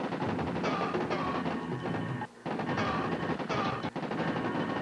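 Rapid gunfire in the Sega 32X CD game Corpse Killer, a continuous loud rattling burst that breaks off briefly in the middle and then resumes just as steadily.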